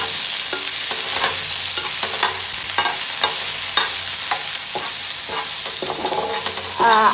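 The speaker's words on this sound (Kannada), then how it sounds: "ಒಂದು 3 ಹಸಿ ಮೆಣಸಿನ್ಕಾಯಿ, 1-2 ಟೊಮೆಟೊ, 1 ಈರುಳ್ಳಿ, ಒಂದು ದೊಡ್ಡ ಸೈಜ್ ಈರುಳ್ಳಿ ಹಾಕ್ಕೊಂಡು ಚೆನ್ನಾಗಿ ಹುರ್ಕೋಬೇಕು" Onion, tomato, green chillies and ginger sizzling in a pan for avarekalu sambar, with a steady loud fry and repeated scraping strokes of a spoon stirring through them, no voices.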